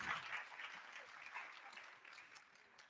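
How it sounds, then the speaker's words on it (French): An audience at a youth engagement event in Angers claps together in a fairly faint, distant wash of applause that stays steady for a few seconds. "Vous pouvez les applaudir à nouveau."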